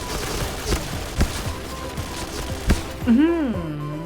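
Gunfire in PUBG, fired while the player character jumps: a few sharp shots scattered over a few seconds, with someone talking over them and a rising-falling whoosh near the end.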